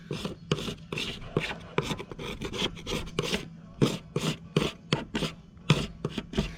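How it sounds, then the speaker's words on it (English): Rapid rhythmic scraping strokes, a small scraper rasping old bedding residue off a J24 sailboat's pulpit area in short repeated passes, close and clear with no talking. "I'm just gonna use this little scraper here. Work off some of this residue."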